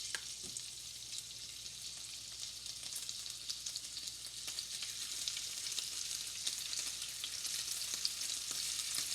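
Beef frying in a pan for beef stroganoff, a steady, even sizzle and crackle that holds close and fairly soft for the whole stretch, with no talking over it.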